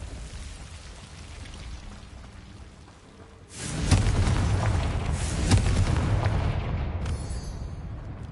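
The Confringo fire spell is cast in Hogwarts Legacy, and a sudden loud booming blast erupts after a quieter stretch of ambient game noise. A rumbling, crackling explosion follows and sustains until the end.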